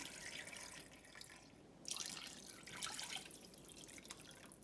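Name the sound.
water poured into pot of mutton for cooking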